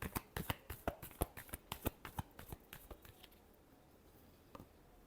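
Tarot cards are shuffled in a quick run of crisp riffling snaps, close and distinct, that trail off into quiet after about three seconds.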